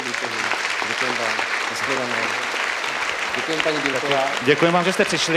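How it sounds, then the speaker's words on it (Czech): Applause for the Bílek couple on a Czech TV show, steady crowd clapping throughout while voices speak over it, swelling slightly toward the end. "zatleskáme manželům Bílkovým"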